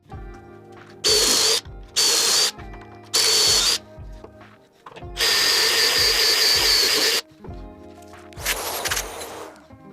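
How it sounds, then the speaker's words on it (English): A power drill whirs in several short bursts drilling holes in a board for cam screws and dowels, then one long sustained run and a final burst, close and loud, with brief pauses between. "you drill all 3 of these again to put your cam screw in and the dowels"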